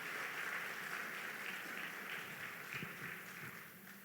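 Congregation applause during a Spanish-language church service, a steady broadband wash of clapping that holds evenly for about four seconds and fades slightly at the end.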